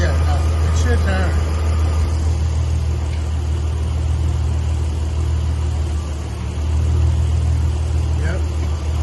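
A 2005 Ford Mustang's engine runs after an engine swap, a loud steady rumble with a slight rise near the end as the clutch is worked, while people talk nearby.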